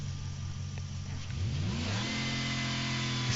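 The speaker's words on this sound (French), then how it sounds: "pour écouter un peu le bruit du moteur" Mazda race car engine in the racing game Gran Turismo Sport, idling steadily and then revving up in rising sweeps before holding a high, buzzing drone, clear and alone without talk.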